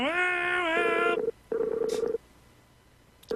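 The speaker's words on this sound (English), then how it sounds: "I guess it was ringing the first time we tried to call him." A telephone call is being placed: two long, loud electronic ringback tones sound close up with a pause between them, followed by quiet line hiss.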